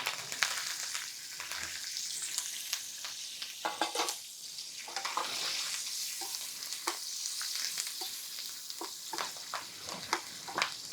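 Green chillies and curry leaves crackle in hot oil for a tempering in a small pan, a soft continuous sizzle broken by sharp pops and stirring clicks, no talking.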